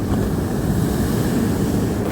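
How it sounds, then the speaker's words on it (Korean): High ocean waves on a sand beach at low tide at Haeundae, Busan, a steady loud wash of surf mixed with wind rumble against the microphone, no voices. "우와 오늘 파도가 뭐 상당히 높은 편입니다"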